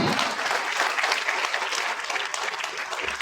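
Enthusiastic applause from the audience at a farewell ceremony, a thick continuous clatter of many clapping hands lasting a few seconds, close and fairly loud.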